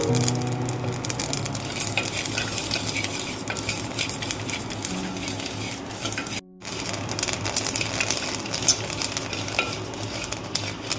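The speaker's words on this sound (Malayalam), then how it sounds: "അരിയെല്ലാം വെള്ളം വെടിഞ്ഞിട്ടുണ്ട്, നമുക്ക് വറുത്തെടുക്കാം" Rice for Palakkad idli podi dry-roasts in a pan, with steady scraping stirs and a light crackling sizzle throughout, broken by one brief pause.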